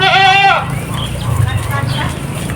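A sheep gives a loud, close bleat at feeding time on a farm, then the grazing area settles into low rustling and shuffling, with no voices.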